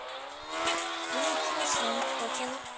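Racing engine revving and tyres squealing in a motorcycle video game, a droning motor with rising and falling pitch and scraping skids, at moderate loudness.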